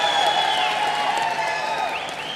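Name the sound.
audience clapping and cheering for megastar Chiranjeevi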